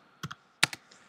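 Typing a terminal command on a computer keyboard: a few quick, crisp key clicks in two short pairs, close and fairly quiet.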